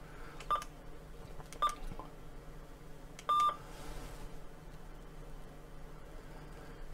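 Three short keypad button beeps sound at spaced intervals from a Yaesu FTA-850L handheld radio, each a crisp tone over faint background hiss.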